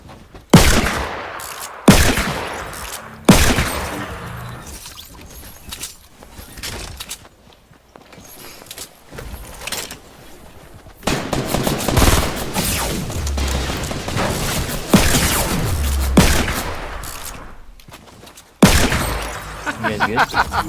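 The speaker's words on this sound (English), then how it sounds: "I should just shoot revolvers all the time." Revolver gunshots fire in Fortnite at Greasy Grove: sharp single reports come in a spaced series, with mechanical clicks and footsteps between and a denser stretch of firing in the middle.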